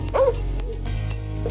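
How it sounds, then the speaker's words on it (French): Excited sled dogs at the start line of La Grande Odyssée race give a quick yip and bark, close and loud over a steady low rumble. "Ses chiens sont surexcités, mais ont très envie d'y aller."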